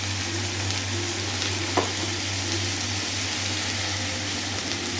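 Prawns with chopped leaves fry in a pan, an even close sizzle under a constant low hum, with one faint scrape of stirring partway through and no voices.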